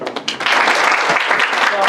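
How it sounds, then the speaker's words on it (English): An audience breaks into warm applause for Professor Kim Chanwoo as he is introduced at a talk on speech recognition. Brief scattered claps rise quickly into steady, dense clapping that holds for the rest of the moment. "Let's welcome Professor Kim Chanwoo with a warm applause"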